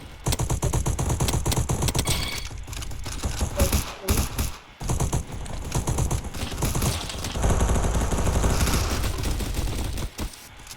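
AK-47 automatic fire in the Roblox shooter Bad Business rattles in dense, loud, sustained bursts, broken only by a few brief pauses.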